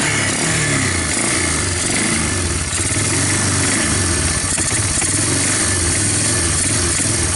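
A Bear Tracker 250 ATV engine with a PZ30 carburetor conversion idles steadily and close, a continuous low, slightly uneven chugging rumble with no voices.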